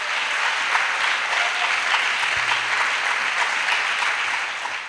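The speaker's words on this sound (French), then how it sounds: "Clap offering to Jesus." A church congregation claps together as an offering of praise during a worship service, a dense, steady wash of applause that continues for the full five seconds without any spoken voices.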